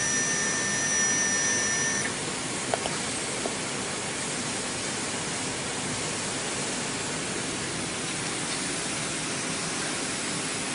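Second spindle of a double-head Chinese CNC router traveling along the X axis, a steady broadband whir and hiss with a faint whine at first, with one small click partway through.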